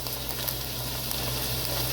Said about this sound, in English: we got that salmon searing. You can see it sizzle